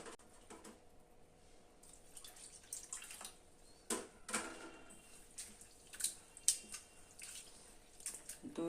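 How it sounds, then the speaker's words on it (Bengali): Flattened rice (chira) being rinsed with water in a bowl: soft, close sloshes and drips in scattered small bursts over quiet background. "চিড়েটাকে আমি প্রথমে খুব ভালো করে জল দিয়ে ধুয়ে নেব।"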